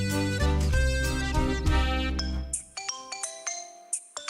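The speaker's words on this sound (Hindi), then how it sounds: "कोई फोन कर रहा है" A mobile phone rings in a home with a bright electronic ringtone melody, first dense and sustained, then breaking into short repeated tones, moderately loud with no voices.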